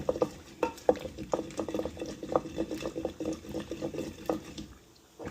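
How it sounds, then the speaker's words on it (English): Lao jeow som chili sauce being stirred in a bowl, giving a run of close, wet scraping and sloshing strokes in an uneven rhythm, with no voices over it. "We're gonna do that like that. Go stir this around."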